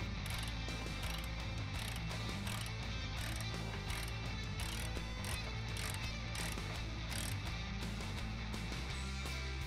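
A ratchet tightens the upper control arm bolts on a 2017-2018 Chevrolet Silverado or GMC Sierra pickup, giving a steady stream of close, rapid metallic clicks over a busy workshop background with no talking.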